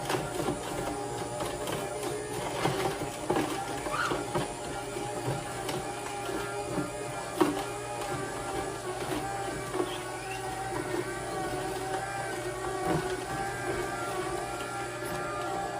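A VANDISELL cold press juicer running on a quiet setting, giving a steady motor whir and low grinding hum, close and continuous with faint clicks, no talk.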